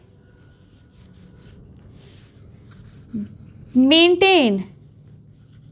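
A marker writes on a board during a biology class lecture, with soft strokes and then a couple of loud squeaky streaks near the end. A voice is faintly present.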